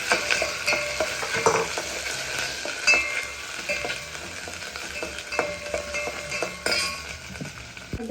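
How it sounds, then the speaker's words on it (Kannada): Fried okra being stir-fried in a pan, a steady sizzle broken by repeated scraping and clinking of a spoon against the metal, with no voices. "ಹುರಿದಿಟ್ಟಿರೋ ಬೆಂಡೆಕಾಯಿ ಸ್ವಲ್ಪ ಹಾಕ್ಕೊಳ್ತೀನಿ."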